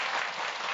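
A church lecture audience breaking into applause, a short, even burst of dense clapping with no voices over it.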